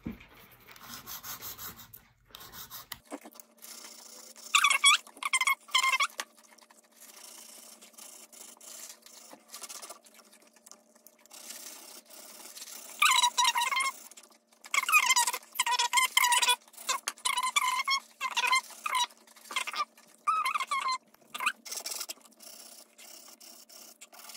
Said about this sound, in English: starting at the pinky, I'm just gonna file it so we have straight edge